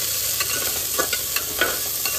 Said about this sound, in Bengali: জাস্ট তো তেলে জিরে দেওয়া হয়ে গেছে, এবার আমি এগুলো দিয়ে দেবো